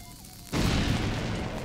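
A bomb goes off in the video game Link's Awakening, one sudden loud burst after a moment of quiet, followed by a sustained rumbling noise that fades only slightly.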